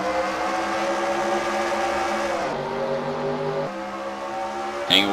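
Race cars pulling away at the start of the Discount Tire 300 at Texas Motor Speedway, a loud sustained roar of engines close by, pitch shifting as they accelerate, with a brief sharp burst near the end.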